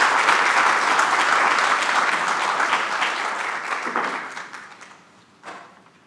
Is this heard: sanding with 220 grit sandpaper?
no